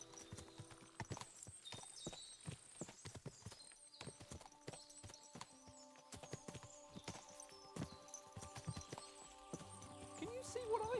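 Several horses clip-clopping in a medieval video game, Kingdom Come Deliverance 2, with dense overlapping hoofbeats, occasional whinnies and game ambience, alongside someone talking.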